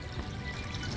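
Water pouring into a home aquarium along with new fish, a steady, close, rushing splash that fills the whole brief moment without any talk.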